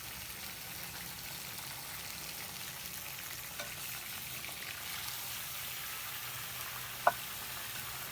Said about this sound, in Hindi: ऑयल के साथ गोश्त की भुनाई करेंगे